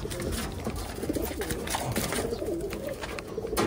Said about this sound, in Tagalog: Ito yung babae mga kalapatids.